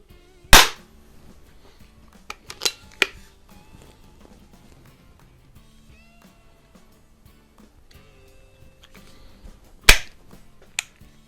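Beeman P17 and Predom Lucznik .177 target air pistols are fired, giving two loud sharp cracks about nine seconds apart, with a few softer clicks and quiet handling sounds in between.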